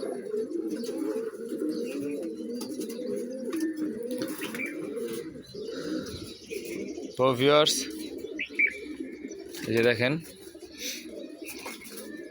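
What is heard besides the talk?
breeder pigeons cooing on a rooftop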